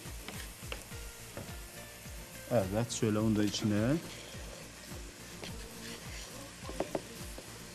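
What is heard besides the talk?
onions sizzling while sautéing in pan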